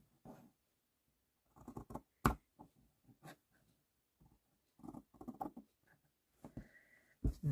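Scissors cut a strip of fabric in short bursts of rustling snips and crisp cloth handling, with quiet pauses between the cuts and a sharp knock or two.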